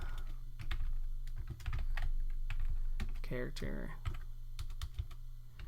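Rapid clicky keystrokes on a computer keyboard as code is typed, a steady irregular patter under a man's brief speech.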